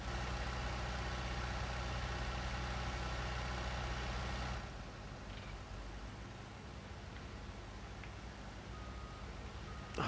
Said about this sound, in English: that skid steer's engine is loud